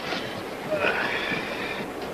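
An old passenger railroad car, around a century old, rides along with a soft, continuous rumble and faint rattling, steady and fairly quiet throughout.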